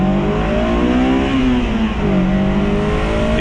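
A 2007 Honda S2000 engine free revs up sharply, drops back, then climbs again, a loud close throaty whine with no talking.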